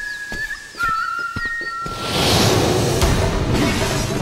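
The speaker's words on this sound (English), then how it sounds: "if you never thought a flute could sound threatening, just listen to what happens every time you engage an enemy in combat." Menacing flute notes sound during combat in the samurai video game Genji: Dawn of the Samurai, with short breathy tones and sharp hits giving way to a loud rushing whoosh of noise.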